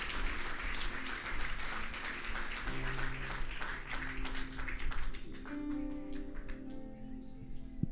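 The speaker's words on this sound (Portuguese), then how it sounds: "Você pode dar uma salva de palmas bem bonita." A church congregation gives a round of applause, moderately loud clapping that thins out after about five seconds as sustained organ or keyboard tones come in and carry to the end.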